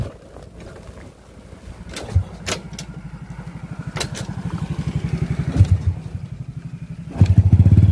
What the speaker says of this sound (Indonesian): waktu engkolan pertama dia nggak mau hidup, tapi engkolan kedua dia langsung mau hidup ya